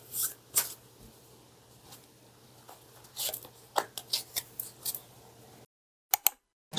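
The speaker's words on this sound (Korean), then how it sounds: "그러면 부자의 그림 카드를 조언점으로 한번 더 뽑아보도록 할게요" Cards from a fortune-telling deck are handled and drawn in a quiet room: a run of soft, close shuffling and sliding flicks in irregular bursts, then a short silence and a couple of final crisp snaps.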